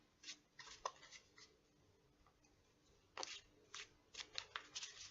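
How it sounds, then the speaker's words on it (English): A deck of cards being shuffled up close and quietly, several short crisp riffling bursts separated by brief pauses. "I will shuffle just a bit to make sure"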